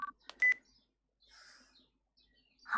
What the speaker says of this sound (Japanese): Phone rang for a moment, and then an extremely irritated voice answered.